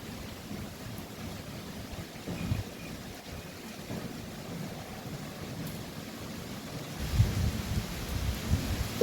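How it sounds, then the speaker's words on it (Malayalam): Gusty wind blows outdoors during a light drizzle, a steady rumbling rush with buffeting against the microphone that swells louder near the end, and no voices. "കാറ്റ് വരുമ്പോൾ നമ്മുടെ മുഖത്തിലേക്ക് ചാറ്റൽ മഴ പെയ്യാണ് കേട്ടോ"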